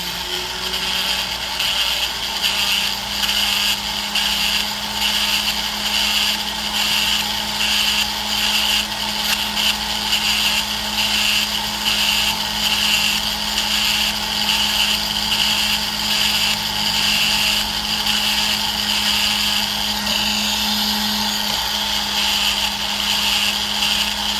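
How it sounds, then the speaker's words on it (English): A metal file rasps steadily against the inside of a white gold ring during resizing, a continuous close scraping texture with fine repeated strokes running through the whole stretch, no talk. "I'm just filing the inside down again."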